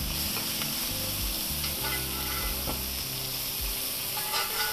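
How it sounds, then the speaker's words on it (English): Steaks sizzle loudly in a heavy cast iron pan while being basted with garlic and thyme butter, a continuous close hiss and spit of frying with faint scraping and stirring under it. "Now start to baste your steaks with that garlic and thyme scented butter"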